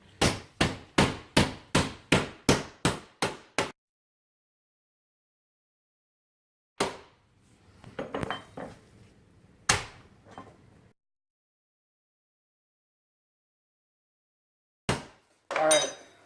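Raw meat is pounded on both sides to tenderize it for a home-cooked dinner, with a rapid run of about ten sharp, evenly spaced whacks, then a few scattered heavier blows separated by silence, all close and loud.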